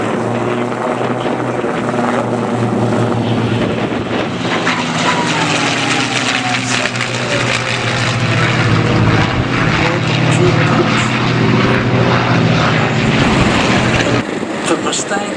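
A North American P-51 Mustang flying at an air show, its propeller engine a loud, sustained roar that swells toward the middle, with a commentator talking over it.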